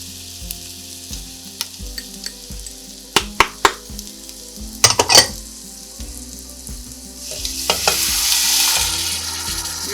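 Canned tomatoes with chili powder and salt sizzle in a hot pan for butter chicken, with scattered clinks and scrapes of a spoon stirring through steady frying that swells louder near the end.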